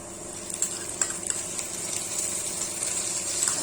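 Chopped tomato drops into onions frying in a pan over a medium gas flame, giving a steady sizzle with scattered light clicks and stirring taps.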